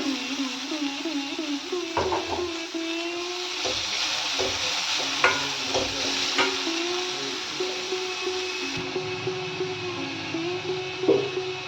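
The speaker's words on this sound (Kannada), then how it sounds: "ಈಗ ಹೆಚ್ಚಿಟ್ಕೊಂಡಿರೋ ಈರುಳ್ಳಿಯನ್ನು ಹಾಕ್ತಾ ಇದ್ದೀನಿ" Chopped onions frying in a pan for a kale stir fry, a steady sizzle with scattered clinks and scrapes of a spatula and a faint ringing tone underneath, close by and without speech.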